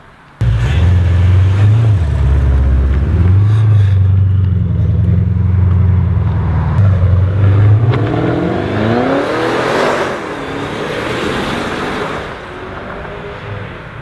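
A modified McLaren roars loudly up close, its engine revving in pulses before the car accelerates away and the sound fades with distance, with no talking.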